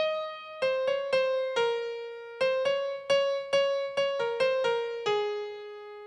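A piano plays a simplified song: a sparse line of single notes, about a dozen distinct strikes in uneven groups, each ringing and decaying, near and clean, with no voices.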